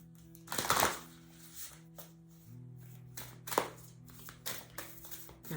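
A deck of tarot cards is shuffled in a few soft riffling bursts separated by short pauses, quiet and close by, with faint background hum and no talking.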